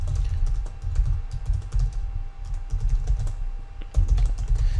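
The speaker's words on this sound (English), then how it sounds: "So let's just type some stuff in." Captions are typed on a computer keyboard in a fast, steady patter of close key clicks with dull thumps, one short pause partway through, and no voice over the keys.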